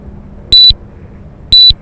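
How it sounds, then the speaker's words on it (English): Two short, loud electronic beeps from a radio-control transmitter's timer for an Eachine E120s helicopter, evenly spaced about a second apart, in a quiet room. "what's this beeping noise? Oh, I think I have a total timer."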